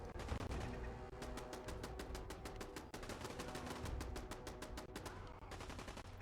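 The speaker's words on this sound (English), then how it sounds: "Who is shooting at me?" Rapid automatic gunfire in Fallout 4, shots aimed at the player in an underground area, a long run of evenly spaced, loud reports with a brief break near the middle before the firing resumes.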